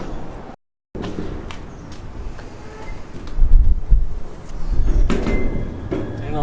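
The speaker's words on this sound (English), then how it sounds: "so you can hear our garage door banging a little bit there." Irregular knocks and rattles of a garage door banging in gusty wind, with wind noise buffeting the microphone and louder thumps toward the end.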